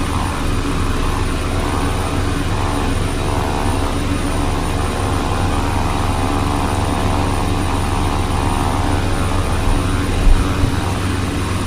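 A Beechcraft 1900D twin turboprop in Flight Simulator 2002 drones steadily and loudly, its engines and propellers holding an even, continuous hum with no pauses throughout.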